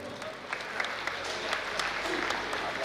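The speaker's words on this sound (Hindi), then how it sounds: "आप लोग जोरदार तालियों से स्वागत करें।" An audience at a cultural hall event in Amravati gives steady, sustained applause to welcome a guest, with a few louder individual claps standing out.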